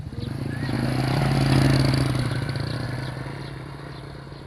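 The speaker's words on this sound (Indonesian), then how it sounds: "Ngapa sih motor ini?" A motorcycle engine runs nearby with a rough, clattering mid-pitched drone that swells louder toward the middle and then eases off, continuous with scraping rattles.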